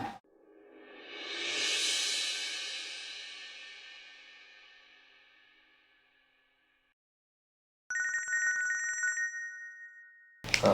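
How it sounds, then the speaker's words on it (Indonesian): A ringing tone swells and fades away, then after a short silence a phone trills electronically for about a second, nearby and clear. "Pak, saya angkat telepon sebentar ya."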